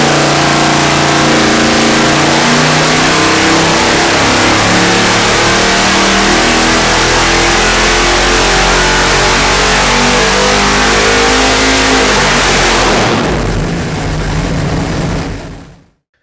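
A carbureted 454 engine revs hard and sustained on a dyno, its pitch climbing steadily under heavy load, then abruptly cuts off and winds down near the end.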